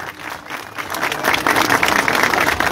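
A crowd applauding as champion Feyzullah Aktürk is welcomed to the stage in a cold outdoor homecoming, clapping swelling from moderate to loud and dense, sustained to the end.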